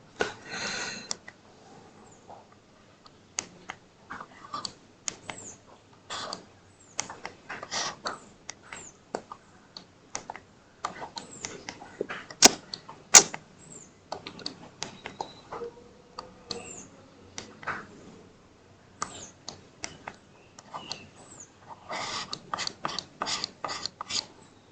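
A lecturer erases writing from a board during a differentiation lecture, giving repeated short scrubbing strokes in uneven bursts with brief pauses between, close and fairly quiet with no talking.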